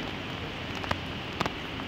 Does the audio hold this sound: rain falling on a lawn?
yes